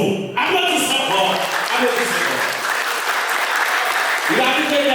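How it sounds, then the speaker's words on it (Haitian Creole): A crowd applauds at a Fanmi Lavalas political rally commemorating 16 December 1990, dense sustained clapping with cheering that runs almost the whole time and swells again near the end. "Applaudissez encore."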